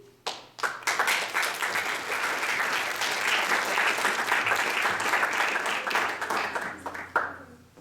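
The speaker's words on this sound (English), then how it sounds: "I think everybody deserves another big round of applause." Conference audience applauding award recipients at a chemistry meeting: a sharp start, then sustained, fairly close clapping from a roomful of hands that thins out toward the end.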